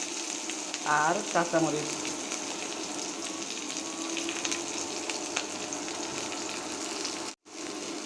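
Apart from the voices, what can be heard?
onion and dried chilies sizzling in mustard oil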